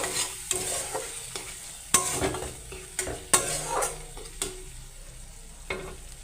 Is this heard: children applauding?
no